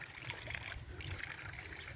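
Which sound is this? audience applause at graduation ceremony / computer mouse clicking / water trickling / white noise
water trickling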